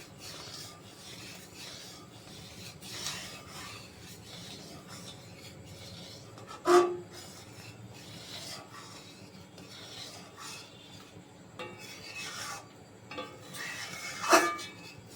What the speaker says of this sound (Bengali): এরকম ভাবে নাড়তে নাড়তে যখন ঘন হয়ে যাবে তখন আমি এটা নামিয়ে নেব